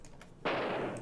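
Single gunshot fired while hunting in the computer game Oregon Trail 2, one sudden sharp blast with a brief decaying tail, fairly faint.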